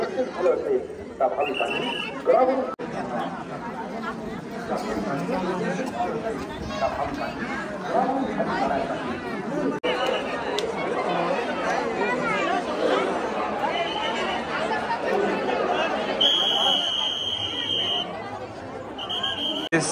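Dense crowd chatter fills the hilltop Jejuri temple fort, a steady babble of many voices with some nearer talk throughout.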